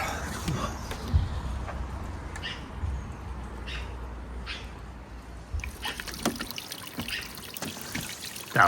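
A small solar-powered pond pump throws water up and splashes it into a small bucket outdoors, a steady trickling, bubbling wash with a few louder splashes, fairly quiet and without speech.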